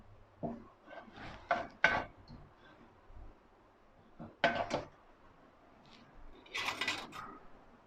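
A spoon scraping and stirring melting sugar in a pan while making caramel sauce, giving intermittent close scrapes and clinks of varying loudness over a quiet background.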